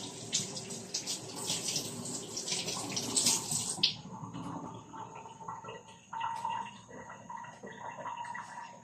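Tap water runs steadily into a sink while a small watermelon is washed, splashing at first and then settling into a thinner stream with bumps and handling noises close by.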